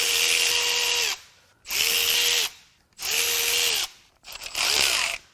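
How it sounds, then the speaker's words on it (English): Power tool bursts while unbolting the exhaust manifold from the cylinder head of a BMW/Mini Cooper N14 engine during teardown: four loud whirring runs of about a second each, separated by short pauses, with no talk. "Now I can start unbolting the manifold from the cylinder head."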